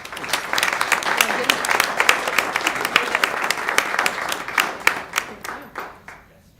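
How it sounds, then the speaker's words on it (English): Applause at a school board meeting for Charlotte, a retiring colleague: lively clapping from a room of people, fairly near and loud, with distinct individual claps and voices mixed in, thinning out and fading in the final second. "can we all please give Charlotte a giant round of applause?"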